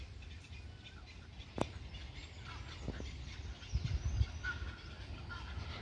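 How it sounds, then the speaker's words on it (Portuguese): Birds call through the open air of an ecological park in Campinas, scattered chirps and faint distant cries over a low steady background, with a few brief louder bumps near the listener. "Muitas aves aqui, né?"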